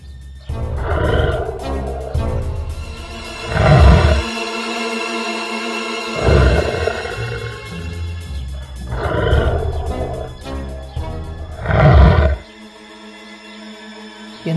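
A cartoon lion lets out several loud, drawn-out roars in an animated children's story, each swelling and fading, spaced across the passage with brief quieter gaps between them.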